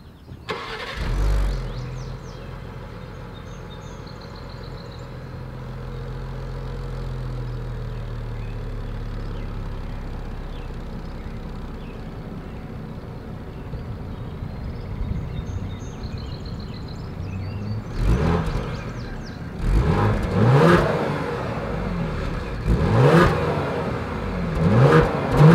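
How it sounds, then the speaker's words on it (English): A 2020 Ford Explorer ST SUV engine cranks and starts, then idles steadily before several sharp revs through its dual exhaust with quad chrome tips, heard loud and close with no talking. "As always, here is that exhaust clip."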